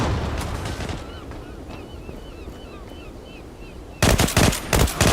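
Weapon fire in the online shooter Zula: a few sharp shots at the start, a quieter stretch with faint sounds, then a loud burst of rapid gunfire near the end.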